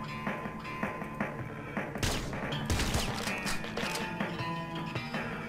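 Shotgun-wielding enemy in the roguelike game Nuclear Throne firing amid a dense, loud run of blasts and crashes, with a heavy burst of overlapping shots near the middle over constant game noise.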